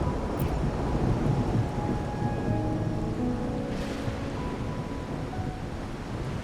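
Steady rain with low rumbling thunder in the Wuthering Waves 2.0 video game, a dense continuous wash that stays loud and even throughout, with no talking.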